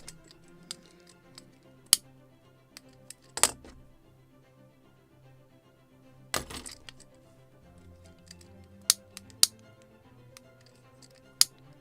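New scissors snipping rigging rope on a model of the 1776 gunboat Philadelphia, giving sparse, sharp clicks and ticks close by against a quiet room hum, with a few louder snaps scattered through.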